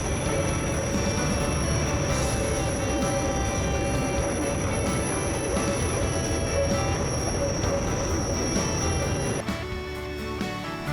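A train on the Matterhorn Gotthard Railway in the Swiss Alps rumbles steadily along the rails, loud and close, with a constant high-pitched wheel squeal that cuts off near the end.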